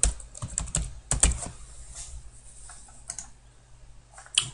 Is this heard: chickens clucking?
no